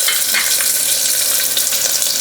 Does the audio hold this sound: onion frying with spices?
yes